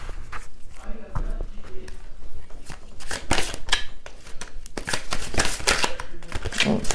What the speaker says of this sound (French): mes cartes ont du mal à se mélanger